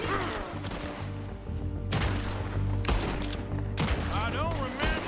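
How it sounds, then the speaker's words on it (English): Gunfire in Red Dead Redemption 2, a few heavy shots and impacts in a noisy battle mix with a person speaking over the action. "Told you I could shoot a gun."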